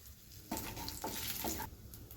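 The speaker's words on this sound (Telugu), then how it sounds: "నూనె వేడెక్కింది కొన్ని మసాలాలన్నీ కొన్ని వేసుకోవాలి రెండు బిర్యానీ ఆకులు సుంచేసుకోవాలి" Spices and two bay leaves frying in hot oil for chicken biryani give a continuous close sizzle with stirring scrapes, swelling briefly in the middle of the clip.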